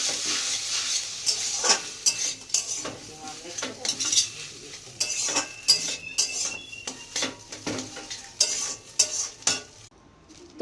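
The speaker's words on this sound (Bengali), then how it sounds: "তো দেখো গাজর বিনসটা সুন্দর করে ভাজা হয়ে গেছে, এবার এই নুডলসটা দিয়ে দেবো।" Noodles are stir-fried in a pan with carrots and beans, with steady scraping and clinking of a spatula against metal over a light sizzle, in irregular bursts.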